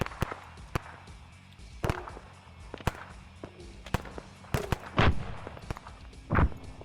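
Enemy mortar rounds land in an Arma 3 battle, a run of sharp booming impacts at irregular intervals, some near and heavy and others distant, mixed with scattered gunfire.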